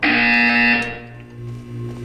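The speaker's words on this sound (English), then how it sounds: "When you hear the buzzer, look down at the floor." A harsh, loud electronic buzzer from the video game Portal 2, a steady sustained tone lasting under a second before tapering into a softer lingering hum.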